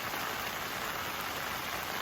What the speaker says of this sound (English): Okay, now we got some rain.